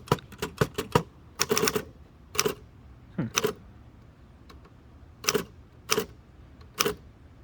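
A 1933 Underwood four-bank portable typewriter being typed on outdoors, crisp irregular clacking keystrokes in short bursts with brief pauses between them, close and fairly quiet.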